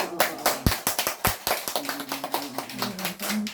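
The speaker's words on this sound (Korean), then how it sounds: "같이 박수 한번 칩시다" A Buddhist assembly claps together at a Dharma talk closing memorial and water-land rites, the sharp, uneven claps coming near and loud in a steady burst for several seconds.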